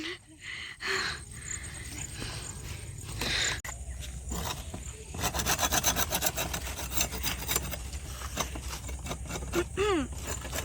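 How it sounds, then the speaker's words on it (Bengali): Palm leaves being cut outdoors in a village, with rough rasping, sawing strokes against the fibrous leaf, close and moderately loud, coming in uneven bursts over about ten seconds. "তাল পাতা কাটছি"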